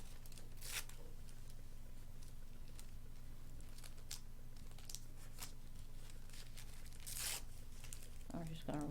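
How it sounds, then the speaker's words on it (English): Paper is torn by hand into small pieces for a butterfly craft, giving several short ripping bursts close up, with a voice talking alongside. "I'm just going to rip it up. Just rip it with your fingers."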